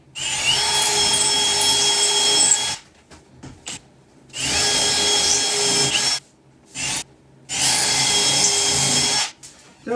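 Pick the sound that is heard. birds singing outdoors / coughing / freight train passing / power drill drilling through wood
power drill drilling through wood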